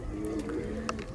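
High-flyer pigeons coo softly close by in a short burst, low throaty calls over a steady background hum, with a voice speaking faintly.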